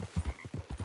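Horse hooves clip-clop in Red Dead Redemption 2, a short run of steady, evenly spaced thuds at close range, moderately loud with no talk.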